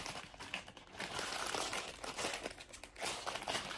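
Crinkly plastic packaging is torn and opened at a mukbang table, a close, continuous crumpling and crackling that runs for several seconds with no talk over it.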